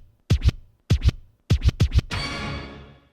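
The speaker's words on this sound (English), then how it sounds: "I added this scratch." Record scratch effects in a 90s G-funk style beat: quick back-and-forth vinyl scratches in short rhythmic bursts, a pair, then a pair, then a faster run of three, ending in a noisy sweeping tail, loud and alone.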